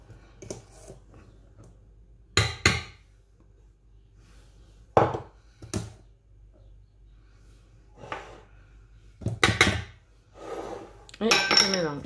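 Ingredients being mixed in a bowl for a soft chocolate cake after flour and baking powder go in, with scattered clinks and knocks of a utensil against the bowl separated by quiet gaps.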